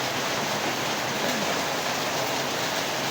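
Heavy, unbroken rain pours steadily during a typhoon, a dense broadband hiss like a waterfall holding at an even level throughout with no clear voices.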